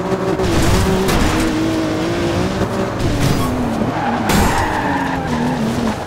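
A Jeep in Forza Horizon 2 revs hard over cross-country terrain, its engine droning steadily loud and close throughout, with tire skids and a wavering pitch as it slides and bounces.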